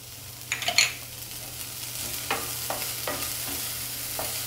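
Garlic cloves, now browned, and a chopped green chilli with its stem fry on a low flame with a soft, steady sizzle, punctuated by a few light spoon scrapes and clinks against the pan.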